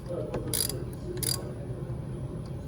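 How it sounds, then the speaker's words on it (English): A ratchet clicks in two quick bursts while loosening the oil filter on a Kawasaki Concours ZG1400 motorcycle, close and crisp over a low background hum. "get the ratchet on there and get that loose"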